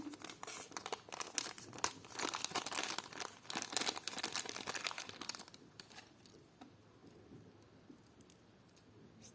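A small plastic bag crinkles and rustles in bursts while a parcel of vintage clip-on earrings is unpacked, loud for the first half, then quieter scattered crackles.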